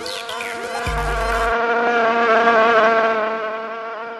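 Buzzing insects swarm around a wasp nest, a loud, steady droning hum with wavering pitch, joined briefly near the start by a low thump and rumble.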